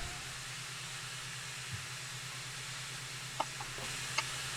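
A live-steam model locomotive on a narrow-gauge slate-quarry light railway hisses steadily over a low rumbling chuff, with a few faint clicks and squeaks near the end as it moves off.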